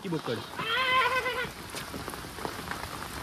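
A single wavering goat bleat rings out nearby in Chiplun during monsoon flooding, followed by a steady patter like rain and faint voices in the background.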